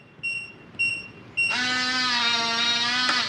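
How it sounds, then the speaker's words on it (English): A Kwikset 914 SmartCode deadbolt gives three short electronic beeps followed by one long, loud, sustained tone close by, with no talking. "It should flash green, long beep at you"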